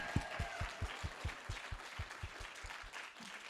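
A summit audience at a university student center applauds steadily, with many hands clapping in a rapid, even patter that sounds fairly distant and soft and carries no talk over it.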